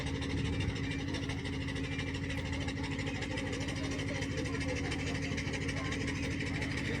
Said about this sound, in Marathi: मोटर या होडीमध्ये बसवलं आहे